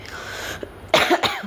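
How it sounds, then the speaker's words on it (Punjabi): A couple of sharp coughs close by after a brief quiet moment, with no talking. "ਮੈਨੂੰ ਖਾਂਸੀ ਆ ਰਹੀ ਗਈ ਸੀ"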